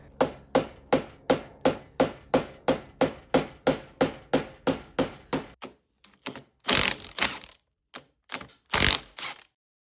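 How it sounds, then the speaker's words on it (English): Hammer driving out the roll pin holding the cross shaft in a Dana 30 differential using a ground-off Allen wrench as a punch: a rapid, even series of about sixteen sharp metallic strikes, then a few scattered clanks and rattles. "I'm going to remove the roll pin then that holds the cross shaft in place"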